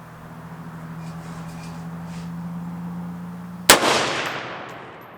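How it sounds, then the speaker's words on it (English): A single loud, sharp report from a rifle chambered in 22 ARC and fitted with a muzzle brake cracks over a steady engine-like hum, then a bright blast decays over about a second. "The muzzle blast from this muzzle brake with this round is significant."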